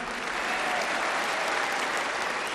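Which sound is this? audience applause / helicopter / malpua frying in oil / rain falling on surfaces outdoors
audience applause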